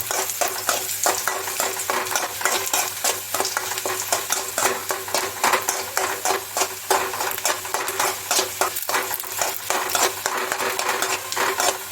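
Onions being stirred and fried in a pan for gongura chutney, a continuous oily sizzle with repeated scraping strokes of a spoon against the metal, close and steady with no talking.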